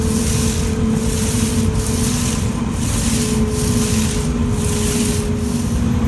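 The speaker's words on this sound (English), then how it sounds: "I'm just gonna spread the epoxy out up against as close to the wall as I can, and then just back rolling it across" A roller spreads epoxy across an indoor concrete floor, producing a loud, constant rushing rub with a faint regular pulse from each back-and-forth stroke.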